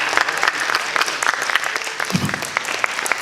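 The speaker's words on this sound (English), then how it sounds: "Let's give a big round of applause for Rebecca." Warm, dense applause from an audience at a student physics science show in Estonia, steady clapping filling the whole stretch at close range, with a brief low murmur midway.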